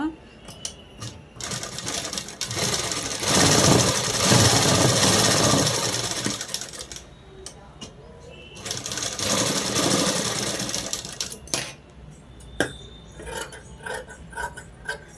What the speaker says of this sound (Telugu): ఇలా కుట్టు వేసేసుకొని దీన్ని ఇలా తిప్పేసి పై కుట్టు వేసేసుకోవాలండి